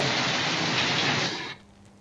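Heavy rain pours in a loud, dense roar, then drops off abruptly partway through, leaving a faint background hush.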